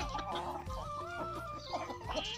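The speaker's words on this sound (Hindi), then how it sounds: "ये हमने उन चूजों को भी खोल दिया है जो कि काफ़ी अच्छे हैं" Hens clucking close by in a yard with seven-month-old chicks, giving a quick run of short overlapping clucks and calls, fairly faint, with no one talking.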